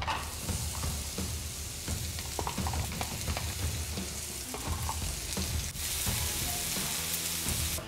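Mushrooms and onions cook in vegetable oil with a loud, dense, continuous sizzle and crackle close up, with occasional stirring scrapes and no voices.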